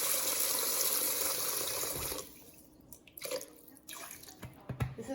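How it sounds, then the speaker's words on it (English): Red meat being washed with water and vinegar: a steady stream of running water at first, then quieter drips, splashes and handling sounds in a sink. "I'm going to use some vinegar to wash it."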